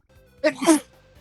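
A single sharp sneeze bursts out, close and loud, lasting under half a second before fading to quiet.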